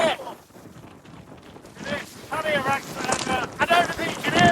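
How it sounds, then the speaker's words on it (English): Strong headwind buffets the microphone while bikepacking, a gusty low roar that builds and swells. A voice talks over the wind through most of the clip. "It's windy in this headwind"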